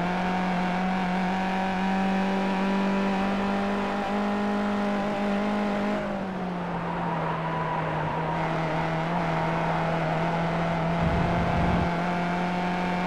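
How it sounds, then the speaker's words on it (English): Race cars on road tires at Summit Point in iRacing hold a steady, droning engine note at high revs, with a sustained tire whine. The pitch dips once midway and there is a brief rumble near the end. "These little bitty tires are just screaming, and they're road tires."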